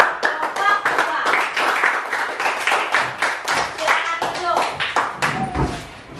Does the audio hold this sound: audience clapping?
yes